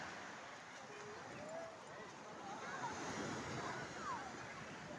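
Sea waves washing onto a beach, a steady broad roar of surf with gusting wind noise on the microphone, fairly faint, with people talking in the background.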